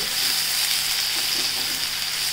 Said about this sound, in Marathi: मोहरी, कढीपत्ता, छोटे 2 मध्यम आकाराचे कांदे घेतलेत मी। ते जरा परतून घ्यायचे।